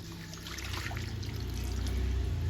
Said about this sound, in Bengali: একে একে আমি পাতাগুলো এইভাবে ধুয়ে নেব, ভালো করে পরিষ্কার করে নেব।